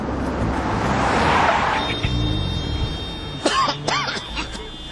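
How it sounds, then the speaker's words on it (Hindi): Cars roll through heavy city traffic near a flyover, a loud close rush of engines and tyres that rises and fades, followed by brief high squeals and a sustained tone. "इतना ट्रैफिक, ये फ्लाईओवर कहाँ गया?"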